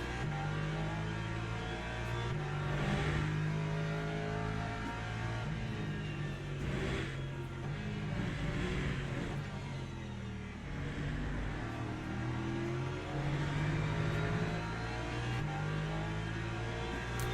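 A BMW race car in the iRacing IMSA series sweeps past with a sustained, droning engine note that rises and falls in pitch as it accelerates, moderately loud and steady throughout with no talking.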